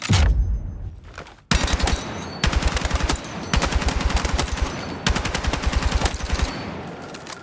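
Bursts of rapid L85A3 assault rifle fire in Battlefield 6 crack out in several loud, closely spaced volleys, separated by short pauses.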